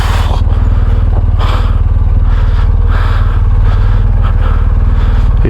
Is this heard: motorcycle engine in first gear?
yes